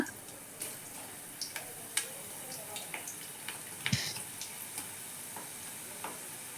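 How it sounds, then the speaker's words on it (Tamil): Pakoda batter of pearl millet, finger millet and green gram dropped into hot oil, a quiet steady bubbling fry with small crisp pops and ticks scattered throughout and one louder thump midway. "இப்போ எல்லாத்தையும் நம்ம பக்கோடாவாக போட்டு பொரிச்சு எடுத்துக்க போகிறோங்க"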